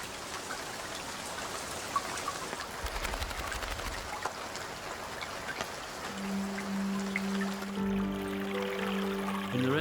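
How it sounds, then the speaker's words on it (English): Steady rain falling at the end of the dry season, a dense patter of drops on surfaces throughout, joined later by a sustained low droning tone. "When the rains come at the end of the dry season, the place transforms immediately"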